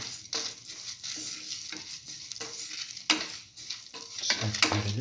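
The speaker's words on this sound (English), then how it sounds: "Now put in the curry leaves on top." Egg bread stir-frying in a pan with curry leaves and salt, a steady sizzle broken by repeated scraping stirs of a utensil against the pan, close and fairly loud.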